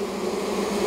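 Honey bees crowd around a hive frame with a close, continuous buzzing drone, steady and fairly loud, with no talking.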